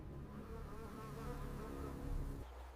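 A steady close drone of buzzing biting insects swarms around a buffalo in hot, crowded conditions, continuous and fairly loud with no voices.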